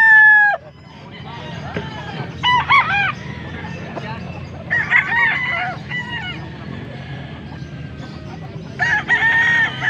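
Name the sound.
pumpkin hatch gamefowl roosters crowing at market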